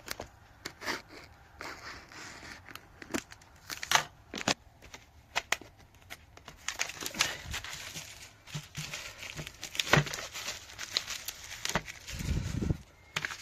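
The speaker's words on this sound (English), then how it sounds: "Let's see if I can open this without cutting the package" A Blu-ray package being opened by hand without cutting, with scattered sharp plastic clicks, taps and crinkling rustles in irregular bursts, close and fairly quiet.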